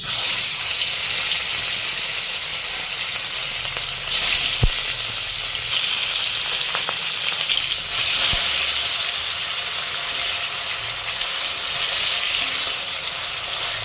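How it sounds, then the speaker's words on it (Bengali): Rohu fish fries in salted oil, a loud, continuous close sizzle and hiss with a couple of sharp utensil clicks and no voices. "মাছটা এরকম লাল লাল করে ভেজে নেব।"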